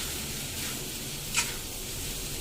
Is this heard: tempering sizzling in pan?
yes